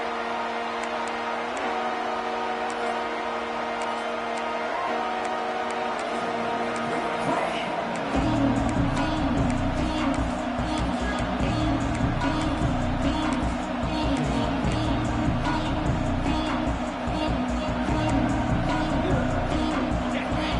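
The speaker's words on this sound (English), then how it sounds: "Listen to the crowd energy here in the early going." A large stadium crowd at a college football game roars steadily, loud and continuous, with a dense wash of cheering and noise that swells partway through and stays high.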